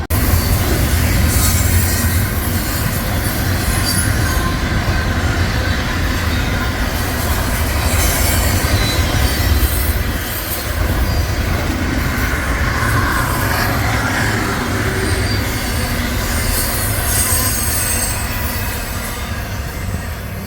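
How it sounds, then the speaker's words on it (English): A train rumbles past close by in China Grove, North Carolina, loud and steady throughout, with rattling wagons and occasional high wheel squeals. "I like cool stuff, like super fast trains."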